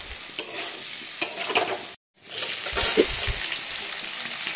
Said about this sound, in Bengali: এবার আমি কড়াইতে তেল দিয়ে দিয়েছি, তেলের মধ্যে একটু লবণ আর হলুদ দিয়ে দিয়েছি, দিয়ে আলুগুলো ভেজে নেব